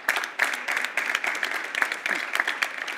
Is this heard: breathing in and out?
no